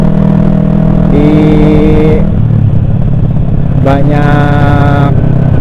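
A carbureted Kawasaki Ninja 250 motorcycle engine revs loudly up close, its twin-cylinder note climbing and falling through repeated throttle blips over a steady rumbling idle, recorded while riding.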